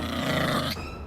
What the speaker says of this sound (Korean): 갑자기 해피가 으르렁 으르렁 거리는데